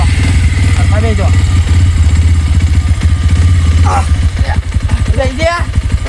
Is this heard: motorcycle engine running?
yes